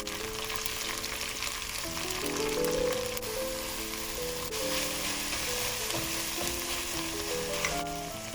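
Mint and cilantro leaves sautéing in a pan for chutney, a continuous close sizzle with stirring scrapes, while soft instrumental music plays underneath throughout.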